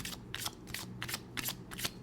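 Tarot cards drawn and slid off a deck during a reading, giving soft papery swishes and riffles in several short bursts, close up and fairly quiet, with no voices.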